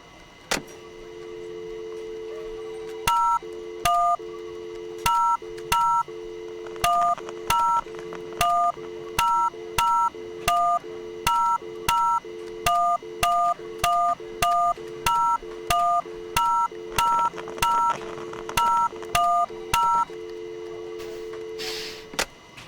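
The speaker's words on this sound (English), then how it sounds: "what if I dial the number?" A telephone number is dialed in the VR game Job Simulator: a steady, clear run of touch-tone beeps in quick, even groups, with a continuous dial tone holding before and after.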